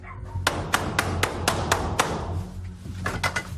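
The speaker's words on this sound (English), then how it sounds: "Door knocker. Wooden door knocker." A wooden door knocker struck hard against a house door during a High Court enforcement visit: about eight sharp, evenly spaced knocks in quick succession, then a few softer taps over a low background hum.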